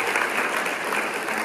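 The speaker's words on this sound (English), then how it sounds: "Give a big round of applause for JT Foxx." Dense, steady applause from an audience at a networking panel discussion, many hands clapping together at close range with a faint crowd murmur.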